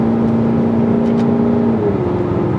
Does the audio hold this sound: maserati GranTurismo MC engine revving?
yes